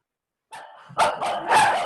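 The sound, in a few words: dogs barking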